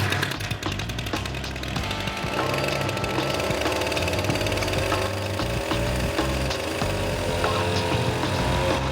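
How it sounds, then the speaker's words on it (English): A new weed whacker motor spinning a homemade propeller in a test rig: a loud, rattling, knocking engine drone with choppy irregular pulses throughout, close and continuous, with no speech. "The new weed whacker is actually working fine. It's whacking away."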